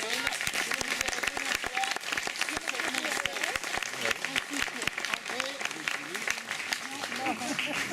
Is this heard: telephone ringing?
no